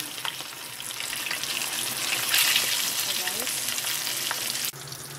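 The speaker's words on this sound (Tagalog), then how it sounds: "I-deep fry lang natin to." Pork giniling packed into a crab shell deep-fries in hot oil with a steady sizzle that swells midway, along with some stirring and a sharp knock near the end.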